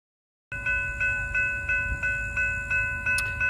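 Florida East Coast Railway train FEC 107 passes close by after starting abruptly from silence, its wheels knocking in a steady repeating clatter over rail joints, with a sustained high ringing tone above the rumble.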